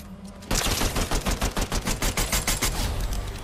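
Rapid gold pistol gunfire in the Fortnite video game, a dense string of loud, evenly spaced shots rattling on for about three seconds after a brief quieter lead-in.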